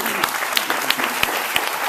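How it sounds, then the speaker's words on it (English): Audience applause for a mayor at an evening community event, a dense, steady wash of many hands clapping close and loud, with a few sharper individual claps standing out. "Let's give him a round of applause."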